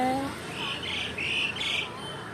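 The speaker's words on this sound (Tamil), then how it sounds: "குட்டி குருவி" A small sparrow outdoors gives a few bright, high chirps in quick succession, close and clear, after a brief voice at the start.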